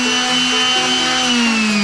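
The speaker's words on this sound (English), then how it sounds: "I'm sanding this vase. It's made out of bamboo." A high-pitched power sander whines steadily at close range on a bamboo vase, its tone wavering slightly as it works against the surface.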